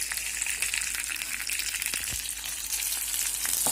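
Curry leaves and green chilies spluttering in hot oil with cumin seeds for an aloo capsicum bhaji, a steady close crackling sizzle with scattered sharp pops throughout, no voices.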